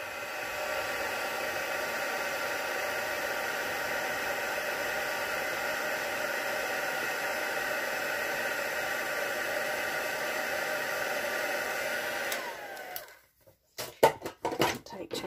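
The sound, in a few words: heat tool blowing for heat embossing a stamped card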